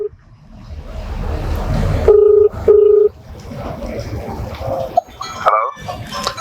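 Telephone keypad tones beep twice in short bursts amid background car noise and voices, followed by a brief electronic ringing tone near the end.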